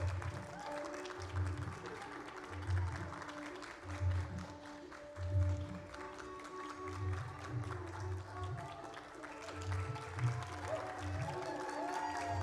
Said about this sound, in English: let's give a round of applause for Zoya's parents and sister.